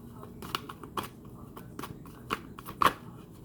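Tarot cards are shuffled by hand close up, giving a series of crisp riffles and soft slaps in an irregular rhythm against quiet background noise.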